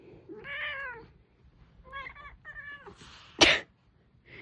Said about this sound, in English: Goofy cat.